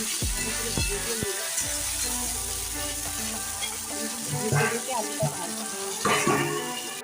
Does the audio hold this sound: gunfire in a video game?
no